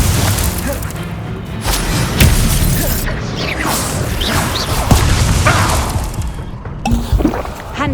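Spell-casting bursts from the Hogwarts Legacy video game, the Expelliarmus spell hurled in combat: repeated booming whooshes and crashing impacts over a dense, loud battle bed, with several sharp hits in quick succession.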